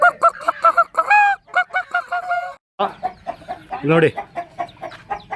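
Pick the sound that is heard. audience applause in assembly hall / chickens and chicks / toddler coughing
chickens and chicks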